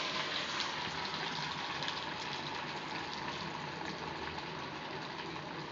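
Snack pieces frying in hot oil give a steady, dense bubbling hiss that holds at an even level throughout, with no voices.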